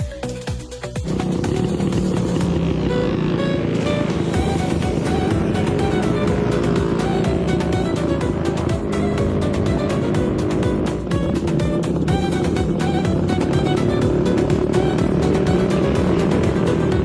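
A vehicle's engine labours and revs loudly and continuously while climbing a steep uphill stretch, a dense sustained drone heard close up from start to finish.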